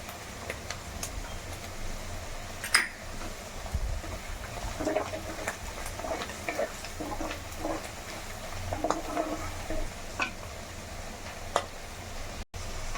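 Onions and green chillies frying in not-yet-hot oil with turmeric, stirred in a pan: a continuous close sizzle with scattered scraping and clinking of the spoon against the pan, no talk.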